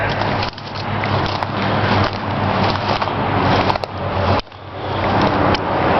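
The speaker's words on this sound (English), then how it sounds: "you can hear the interstate behind me" Distant interstate highway traffic carries through woods where old abandoned cars and a wrecked truck sit, a steady broadband roar running through the whole stretch with a few small crackles and brief dips.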